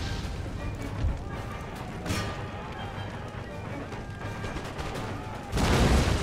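Musket volleys crackle through a dense battlefield din in Empire Total War, with scattered shots layered over a constant roar and a loud burst of fire near the end.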